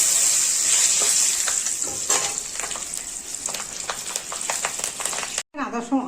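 Black cumin and three green chilies sizzle loudly in hot oil beside fried hilsa fish, a steady crackling hiss with stirring scrapes that cuts off briefly near the end.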